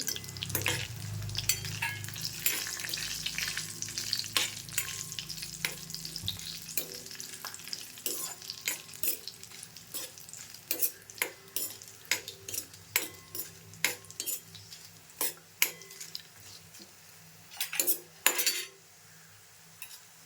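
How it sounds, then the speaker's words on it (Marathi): Cashews roast in a pan for green pea rice, giving a steady sizzle at first that fades into a run of sharp spoon clinks and scrapes against the metal, close and fairly loud, with no one speaking. "आता काजू घेतले आहेत ना त्या पण त्यातच आता आपण भाजून घेऊ"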